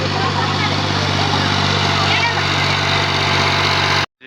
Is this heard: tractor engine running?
yes